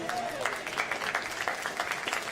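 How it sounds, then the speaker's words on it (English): An audience at a poultry show claps for the exhibitors at the start of judging: steady, moderately faint applause with dense overlapping hand claps throughout. "Everybody give them a round of applause."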